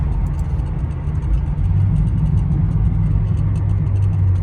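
A Crown Victoria engine runs steadily up close with a low, continuous drone that swells slightly partway through as the paddle shifter drops a gear.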